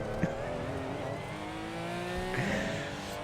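Tires screeching from power oversteer in a racing video game, a shrill squeal riding over a steady engine drone, with a second squeal rising near the end.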